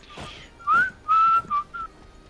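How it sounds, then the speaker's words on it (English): A man whistles a short, wavering tune in a few bright bursts, the notes sliding and breaking off, heard close and alone over faint room noise. "Who's the whistling dude?"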